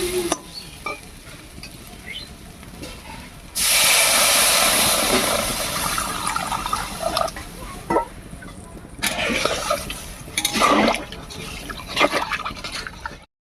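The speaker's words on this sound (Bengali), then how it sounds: "এবার এর মধ্যে জল দেব" Water hits a hot pan of fried spiced rice and pointed gourd (potol), setting off a loud, sudden burst of sizzling that settles into a steady bubbling hiss and flares up again a few seconds later.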